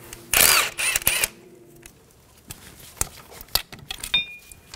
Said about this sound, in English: Using an 8 millimeter socket, remove the bolt for the ABS harness stay.